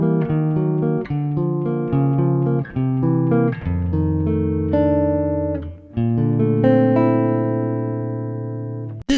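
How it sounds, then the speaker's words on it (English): Jazz guitar chord melody closing Silent Night, with rich sustained chords strummed and arpeggied in a slow descending sequence, ringing out alone and fading gently at the end. "our last couple bars have the ending that sounds like this"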